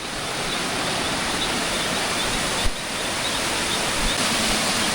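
A steady, dense rush of a waterfall near hot springs in Colombia, loud and continuous, with no voices.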